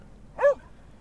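A single short dog bark, clear and fairly close, standing alone against a quiet background.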